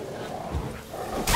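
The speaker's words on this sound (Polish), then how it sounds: "Wilki." Wild dogs or wolves in The Witcher 3 bark and yip in short bursts over low ambient wind, with a sharper noisy burst at the very end.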